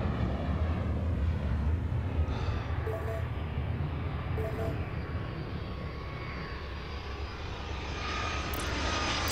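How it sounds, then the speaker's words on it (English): A jet airliner in the airport-management game Airport Madness World Edition takes off from runway 27 right, its engine roar a loud, steady broadband rumble that holds at full strength throughout. "Jet 699, cleared for takeoff, runway two seven right."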